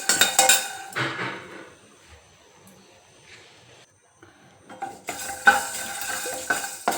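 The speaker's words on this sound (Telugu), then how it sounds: "ఇప్పుడు ఇవన్నీ నూనె నయం లేకుండా వేయించుకోవాలి" Dry ingredients roasting in a pan without oil, heard as bursts of stirring, scraping and metal clinks with a quiet pause in the middle, while a voice speaks faintly underneath.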